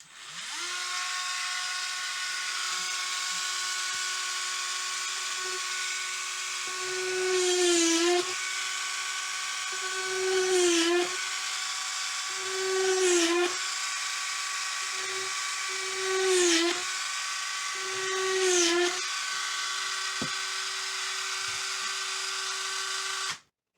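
A Dremel rotary tool with a burr drills small holes into a dried birdhouse gourd. A high, steady whine runs throughout and dips in pitch about five times as the bit bites into the shell.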